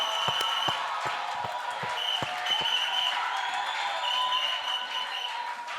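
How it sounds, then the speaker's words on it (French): A church congregation claps and cheers, with sharp individual claps standing out over a steady crowd noise and shouting. "Applaud and give the noise."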